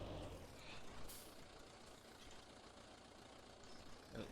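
Tractor engine held at high revs in Farming Simulator 19, a steady loud droning roar that runs continuously throughout with no talk.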